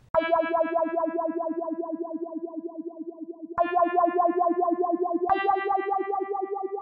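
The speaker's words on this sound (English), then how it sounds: "So I also added a pulsing chord." Pulsing synth chord layered into a hip-hop beat, a steady rapid throbbing of bright sustained harmonics that shifts to new chords twice, loud and alone with no voices.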